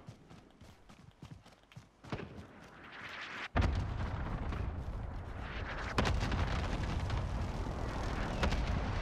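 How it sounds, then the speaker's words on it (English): Heavy explosive blasts rumble through a video game battle, with a sharp boom near the midpoint followed by a sustained dense roar of detonations and debris, another strong hit later, and faint crackling impacts early on before the main barrage lands. "Enemy cluster strike incoming."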